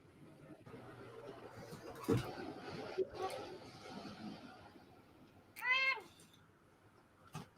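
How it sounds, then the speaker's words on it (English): A domestic cat meows once, a clear rising-falling call near the end, after quieter background rustling and thumps indoors. "I just come in and the cat starts meowing."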